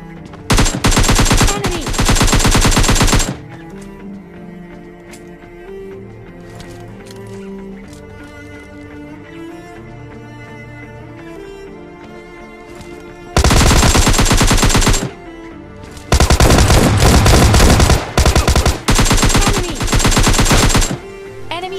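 Automatic gunfire in the PUBG Lite battle royale game, with several long, loud bursts of rapid shots at the start and end and quieter game sounds in between.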